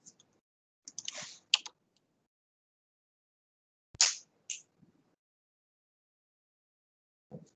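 Computer keyboard keys tapped in short clustered bursts while an ID number is typed by hand, a quick flurry near the start, another burst midway and a few isolated clicks, with quiet gaps between.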